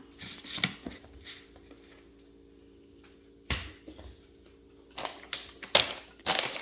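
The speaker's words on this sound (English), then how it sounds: "So there's 2 scoops of the whey protein." Whey protein powder is scooped for a healthy shake, giving soft, quiet scraping and patter bursts with clattering scoop taps, separated by pauses.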